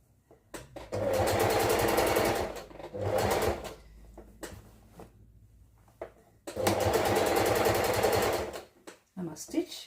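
A sewing machine stitches fabric in two long runs, about half an inch from the edge, with a shorter burst between them, its motor whirring steadily and close. Brief pauses separate the runs, and a voice talks faintly underneath.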